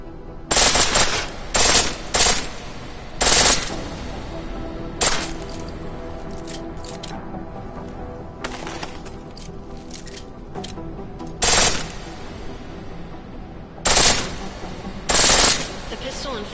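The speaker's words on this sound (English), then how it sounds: "The pistol in full auto will take down targets fast, but it'll burn through your ammo." A pistol firing on full auto in Deus Ex: Mankind Divided, with several short, sharp bursts of rapid shots spread out over a quieter game background, loud and crisp, and no speech over them.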